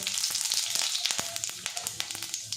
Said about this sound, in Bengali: এবারে এর মধ্যে দিয়ে দেবো 1 চামচ পরিমাণে 5 ফোড়ন।